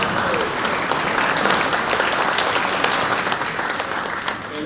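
Audience applause at an orchestra concert, a steady, dense wash of clapping that holds loud and even throughout with no voices on top.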